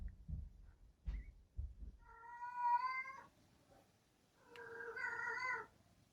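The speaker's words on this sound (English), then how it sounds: "my cat's in heat, can you tell?" A female cat in heat yowls in two long, drawn-out wails, loud and close, following a few soft thumps and rustles, with a quiet pause between the calls.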